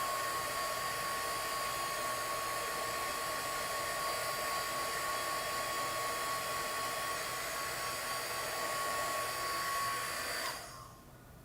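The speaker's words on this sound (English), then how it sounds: "maybe do a little bit more drying here because I don't want to mess it up" A hair dryer blows steadily at close range to dry resin on a jewelry piece, a loud continuous airy whoosh with a faint whine that holds for about ten seconds before cutting off abruptly.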